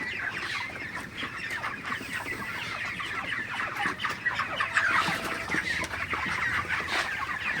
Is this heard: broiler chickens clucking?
yes